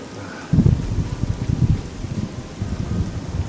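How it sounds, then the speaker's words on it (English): Rain falls outside a home in a steady, moderate patter with denser bursts of drops on surfaces and some rustling, continuing evenly without speech. "Rains a lot here, I notice that."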